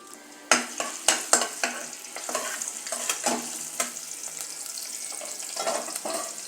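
Ginger dropped into hot oil and ghee for ven pongal, with a few sharp clatters at the start, then a steady sizzle and occasional spoon scrapes, close and clear with no voices.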